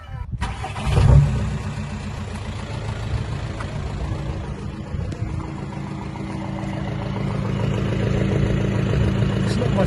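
A VW Golf Mk5 with a new exhaust starts, then settles into a steady, moderately loud idle with a low, even rumble throughout.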